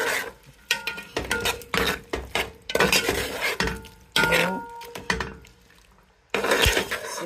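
Prawns being stirred in a metal pot, with repeated scraping clinks of a utensil against the pot over a soft sizzle, loud and close, pausing briefly before resuming.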